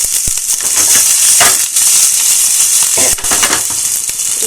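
Ginger frying in hot oil with mustard seeds and fenugreek, a loud, steady sizzle with crackling pops and occasional stirring scrapes, close up and without talk.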